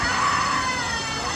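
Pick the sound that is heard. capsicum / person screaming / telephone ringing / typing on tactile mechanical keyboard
person screaming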